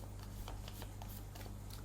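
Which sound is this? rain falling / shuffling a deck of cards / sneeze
shuffling a deck of cards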